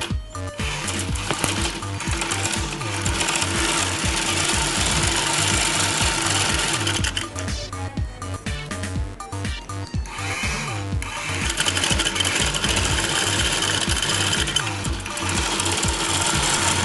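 A sewing machine stitches the four sides of a homemade fabric face mask, a loud, busy mechanical clatter of rapid needle strokes running almost continuously with brief pauses, no voice heard.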